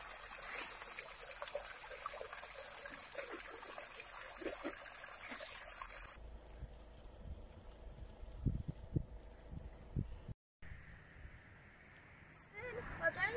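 Clear, cold spring water trickles from a samovar-shaped spring outdoors, a steady dribble throughout with a brief gap near the end, while a person talks over it.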